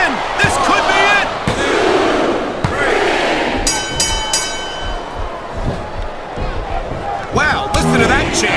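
A wrestling arena crowd chants and roars in the WWE SmackDown vs Raw 2007 video game, a loud continuous crowd bed under excited commentators' talk, punctuated by sharp slams and thuds.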